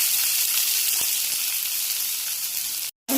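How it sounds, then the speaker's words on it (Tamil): Onions sauté in a pan with a steady, close hiss and sizzle. The sound runs for about three seconds, then breaks off briefly at the end. "வெங்காயத்தை சேர்த்து நல்லா வதக்கிடுவோம்"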